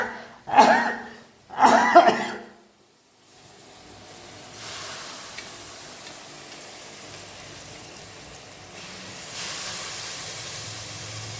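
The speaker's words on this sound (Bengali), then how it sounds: "লঙ্কার ঝাঁঝটা সব নাকে গেছে, আর একেবারে মানে হাঁচি" Chili fumes from cooking bring on two sharp, loud sneezes close by, one after another, followed by a soft steady steamy hiss.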